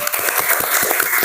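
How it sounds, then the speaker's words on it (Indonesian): A classroom of pupils claps for a group after its presentation, a brief, dense burst of steady applause with no talking. "Tepuk tangan buat kelompok 2."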